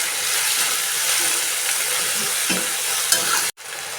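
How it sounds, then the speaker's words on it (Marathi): A tomato, onion and garlic paste sautés in hot oil with a steady, close hiss. The sizzle holds evenly and then cuts off abruptly near the end before resuming faintly. "हा टोमॅटो आणि कांदा आला लसूण पेस्ट चांगली आपण तेलामध्ये परतून घ्यायची"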